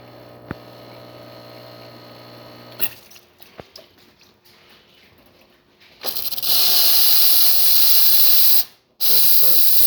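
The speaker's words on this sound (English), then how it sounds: "Nice strong steam." Steam wand on a Bezerra espresso machine, just serviced, bursts into loud, close hissing after a stretch of hum and clicks, runs about two seconds, briefly stops, then resumes strongly.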